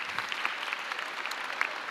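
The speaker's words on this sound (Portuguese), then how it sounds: "Palmas para a Roberta, né?" Students in a chemistry class applaud for Roberta, a brief, soft patter of scattered clapping, fairly distant and faint.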